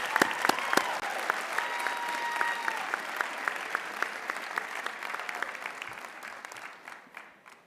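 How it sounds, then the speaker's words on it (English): Audience applause at a Black celebratory graduation ceremony, sharp individual claps at first, then a sustained round of many hands clapping that fades away over several seconds. "Please, let's give them one round of applause."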